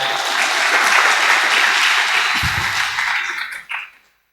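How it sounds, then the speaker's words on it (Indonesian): Audience applause for the organizing committee at an Indonesian gathering, loud dense clapping from a large crowd that holds strong, thins out near the end, then cuts to silence after a final short burst. "Tepuk tangan untuk panitia."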